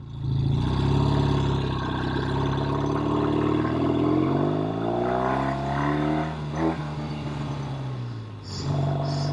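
An all-original 1969 Triumph TR6R motorcycle with a tight engine revs hard close by, its pitch climbing and then falling as the throttle eases, followed by a short blip near the end.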